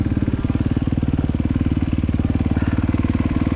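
A KTM 125 motorcycle engine runs close and loud in a fast, even, throbbing pulse that holds steady throughout, with no voices.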